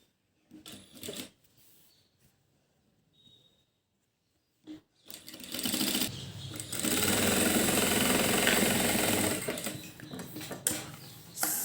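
Sewing machine putting a top stitch along a folded strip of fabric scrap: brief quiet mechanical clicks at first, then a loud, sustained rattling run of stitching that carries for several seconds before easing off.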